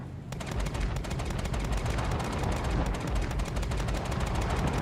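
Rapid bursts from a laser gun in the space game Star Citizen, a dense string of sharp, evenly spaced shots that carry on at a loud, steady level after a brief lead-in, with no voices over them.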